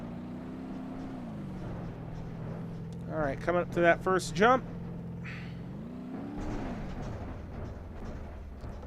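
A '75 Ford LTD engine in the video game BeamNG.drive drones steadily, then climbs into a run of sharp revving bursts before settling back to a low hum, while someone talks over it.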